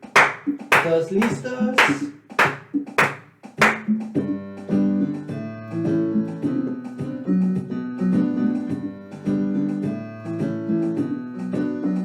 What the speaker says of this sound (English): So maybe clap.